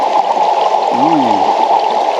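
Low water in the Indian River in Renfrew County, Ontario, rushes and burbles steadily beneath a bridge, loud and close, while a short, faint voice-like sound rises briefly over it.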